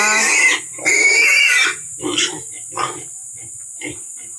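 Hungry pigs on a farm squeal loudly and shrilly up close, then give a series of shorter grunts and oinks that fade out, while someone talks over them.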